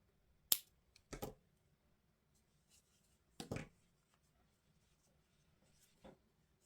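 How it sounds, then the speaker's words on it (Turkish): Scissors snip yarn while a 3D granny square crochet motif is finished: a few quiet, sharp clicks spaced apart, with near silence between them. "Bir zincir çektim ve ipimi kesiyorum."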